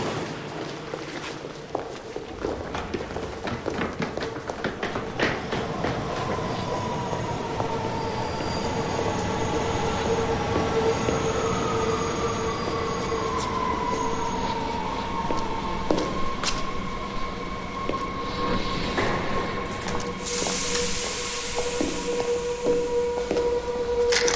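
A Paris metro train at Barbès station rumbles through with wheels squealing and grinding, a continuous loud clatter that runs for over twenty seconds, with rising and falling metallic screeches.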